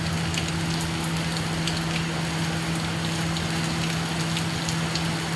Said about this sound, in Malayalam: ഇവിടെ നല്ല മഴയാണ് കേട്ടോ.